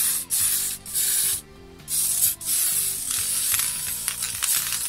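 A spray paint can sprays onto a Tamiya Ford Escort model body in several close, hissing bursts of about half a second to a second each, separated by short pauses, the last ones longer and sputtering.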